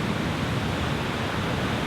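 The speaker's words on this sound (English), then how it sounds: "in a lifetime of seeing waterfalls, this one isn't so grand anymore" Cumberland Falls in Kentucky roars as a constant, dense rush of falling water, loud and unbroken, with no voices over it.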